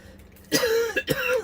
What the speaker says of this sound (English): I'm just going to be coughing all through the video